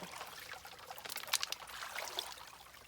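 Water rushes and splashes steadily through a homemade Long Tom sluice box set in a creek, rinsing gravel down, with a brief brighter surge of splashing partway through.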